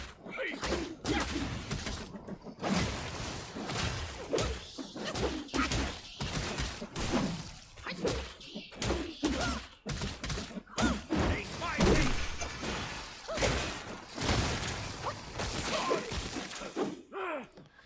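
Burrowing spiders in Black Myth: Wukong burst into poison as a dense run of thuds, cracks and popping blasts, loud and close, with game effects and a voice talking throughout.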